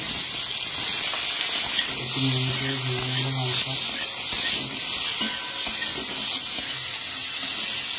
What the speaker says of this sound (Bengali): এর মধ্যে সরষের তেল দিয়ে দেবো, 5 ফোড়নটা দিয়ে দেবো, শুকনো লঙ্কাটা দিয়ে দেবো, এখানে ভেজে নেবো, আনারসটা দিয়ে দেবো